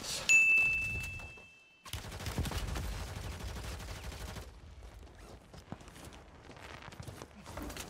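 Gunfire in the Warzone video game cracks in rapid bursts and fusillades, with footsteps and game sounds between volleys, fairly near and moderately loud.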